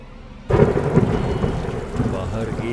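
Heavy rain with a thunderclap that breaks in suddenly after a quiet moment, then rumbles on under a dense, steady downpour.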